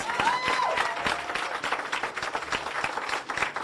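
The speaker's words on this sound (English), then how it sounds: "can we have one more round of applause for Nokukhanya Sibanyoni" An audience gives a spelling bee winner another round of applause, a brief dense burst of clapping with a whistle at the start.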